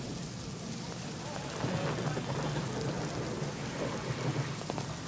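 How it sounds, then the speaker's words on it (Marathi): Heavy monsoon rain in Pune pours steadily while low thunder rumbles in the background, a dense continuous wash of sound with no voices. "पुण्यात गेल्या दोन दिवसांपासून मुसळधार पाऊस सुरू आहे"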